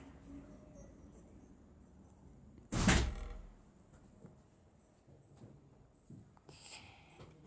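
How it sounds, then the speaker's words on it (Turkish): A single loud door thunk in Minecraft, brief and sharp against a quiet background with faint movement sounds afterward. "E kapat aç kapıyı"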